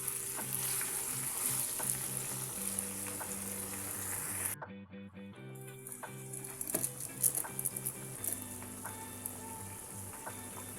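Ginger garlic paste being stirred into a sizzling spinach chicken curry, steady frying hiss with clattering spoon scrapes, a brief quiet gap midway, then sizzling and stirring resume; no talking.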